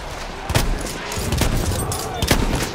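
Shotgun blasts in Battlefield 1 on a bayonet-fitted shotgun, three sharp broadband booms spaced about a second or more apart over constant rumbling battle noise.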